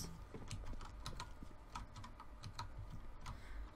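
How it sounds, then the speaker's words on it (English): Loud computer keyboard typing during a Counter-Strike match, rapid irregular key clicks in quick bursts, fairly close but at low overall level, with no talking. "my keyboard's so loud too"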